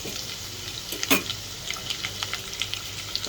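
Garlic, ginger, cumin and curry leaves frying in hot oil for a Gujarati vegetable dish, a steady crackling sizzle with a few sharp spits and pops, close and alone.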